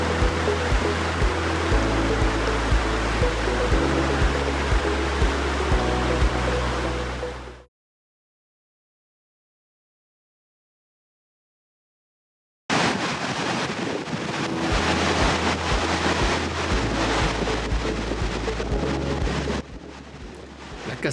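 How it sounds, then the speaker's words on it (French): Vildefossen waterfall beside route 13 in Norway gives a loud, steady broadband roar of falling water, broken by several seconds of total silence midway before the rushing resumes just as strongly. "La cascade impressionnante de Vildefossun sur la route 13 en direction du sud vers Bergen."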